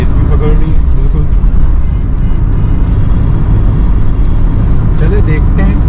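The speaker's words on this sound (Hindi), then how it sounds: "थोड़ी सी रेस बढ़ाता हूँ, पता तो चला मसला हो क्या रहा है" A 1987 Honda Integra engine runs close by with a loud, continuous low rumble as the revs are raised, while someone talks over the steady drone.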